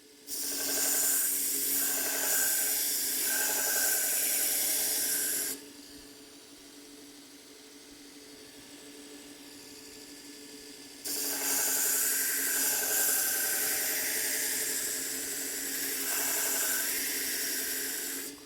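Belt grinder sharpening a Katoku knife freehand, two loud close bursts of abrasive grinding separated by a quieter stretch of machine running alone.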